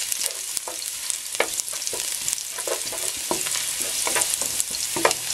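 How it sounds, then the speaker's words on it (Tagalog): Garlic sautéing in hot oil in a pan for chop suey: a steady bright sizzle with repeated scraping stirs of a utensil against the pan, close and continuous throughout. "So, lagay natin itong garlic. Gigisahin natin yung ating chop suey."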